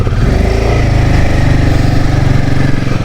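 A Royal Enfield Himalayan 450 motorcycle engine runs close and loud, a steady low throbbing beat holding an even pitch for the whole stretch with no voices.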